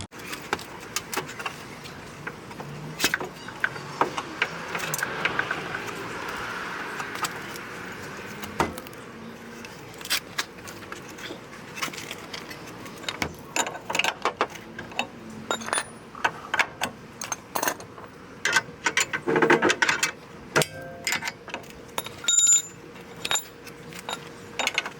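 A wrench works loose suspension bolts on a Mazda Miata by hand, giving sparse metallic clicks, ratchets and clinks scattered through a quiet garage, with occasional knocks and a faint hum in between.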